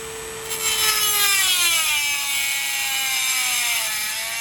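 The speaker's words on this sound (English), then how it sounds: "Don't push hard on your Dremel." Dremel rotary tool cutting through a travel trailer awning, a steady high whine with gliding tones as it bites into the material, moderately close and continuous for several seconds with no talk.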